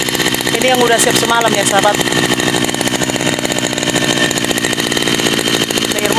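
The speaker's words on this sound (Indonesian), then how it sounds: "Sampai di kebun kita panaskan dulu mesin, baru nanti lanjut kerja." A small motor engine warming up in a garden plot, idling loud and steady with a fast buzzing rhythm throughout, while a person talks over it close by.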